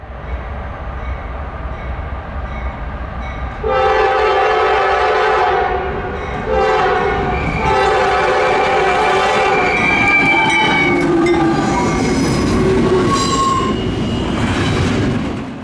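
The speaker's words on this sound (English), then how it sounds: "I was immediately greeted by an eastbound stack train" An eastbound stack freight train rolls past close by, its horn blaring in several long, loud blasts over the rumble of the cars. Wheels squeal and clatter along the rails as the train continues by.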